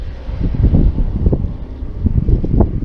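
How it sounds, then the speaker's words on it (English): Wind gusts buffet the microphone on a home driveway during a car oil change, a steady low rumble of blustery noise with no other sounds. "It's a bit windy today"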